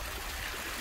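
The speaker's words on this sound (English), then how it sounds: "Here we can see the water floating down from the top of the mountain." A mountain stream running down from the top of a mountain gives a steady, soft rushing and trickling, heard alone for just under a second.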